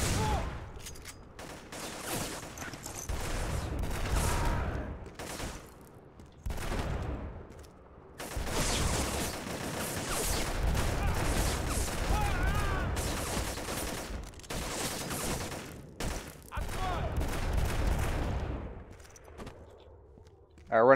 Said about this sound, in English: now who's shooting me in the back?